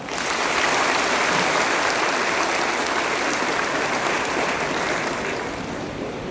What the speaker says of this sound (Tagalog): bigyan natin sila ng pinakamalakas na palakpak